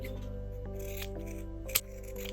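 Scissors snipping the corners of a sewn fabric pouch, a few short crisp cuts with one louder snip near the end, close up over a steady background hum of music.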